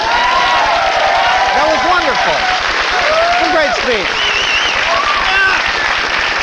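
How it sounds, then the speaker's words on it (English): Studio audience applause during the Almost Live comedy broadcast, a continuous loud roar of clapping with someone talking over it. "Simon Says applaud."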